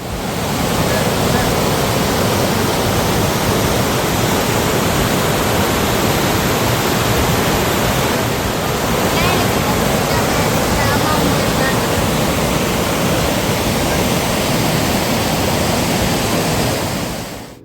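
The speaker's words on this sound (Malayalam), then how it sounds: "ശരിക്കും ഒരു ഘോര വനത്തിൻ്റെ ഉള്ളിലെ വെള്ളച്ചാട്ടത്തിൽ നിൽക്കണ ഒരു പ്രതീതിയായിരുന്നു" A waterfall deep in the forest at Kollangode, Palakkad, roars as a steady, dense rush of falling water that stays loud and unbroken throughout.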